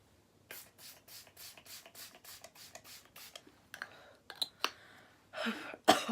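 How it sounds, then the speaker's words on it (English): Rapid spritzes from a makeup setting spray bottle onto a face, about a dozen short hissing bursts in quick succession, close by, followed by rustling and a breathy exhale. "you just spray your face after you've done all your makeup"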